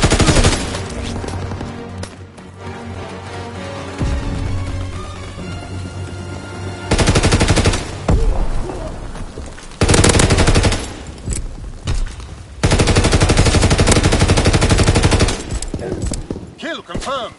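Rapid machine gun bursts in a PS4 war video game, loud and dense, coming in several long volleys with short gaps between them, mixed with game effects.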